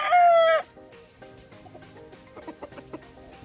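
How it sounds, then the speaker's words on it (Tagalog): A Sweater gamefowl broodcock crows once, loud and close, a short strained call at the start, followed by quieter clucks and scattered farmyard fowl sounds. "Ito naman yung kanyang broodcock na sweater."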